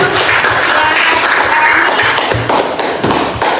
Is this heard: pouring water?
no